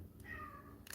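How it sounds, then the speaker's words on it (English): A single drawn-out meow from a pet cat indoors, faint and close, rising then falling over about half a second amid low room noise. "I don't know if you heard that. That's my cat."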